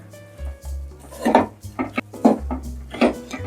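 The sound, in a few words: stirring flax seed laddu mixture in a pan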